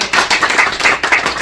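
An audience at a swearing-in ceremony applauding to welcome a speaker, a dense, loud burst of many hands clapping at once, brief and continuous.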